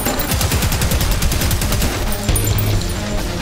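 Rapid, dense gunfire from weapons in the first-person shooter Prodeus, shots overlapping in a loud continuous barrage for several seconds with no talking.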